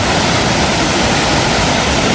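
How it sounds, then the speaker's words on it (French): One of Ireland's largest waterfalls roars loud and close, a dense unbroken rush of crashing water filling the whole stretch with no voices. "c'est une des plus grandes cascades d'Irlande, celle-là"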